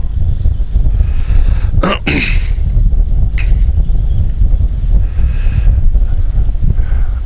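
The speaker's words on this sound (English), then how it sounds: "So right now I'm actually going into the wind" Strong wind buffets a microphone as a Parrot Bebop 2 drone flies at full speed into the wind, a continuous low roaring rumble with a couple of sharp gusting bursts.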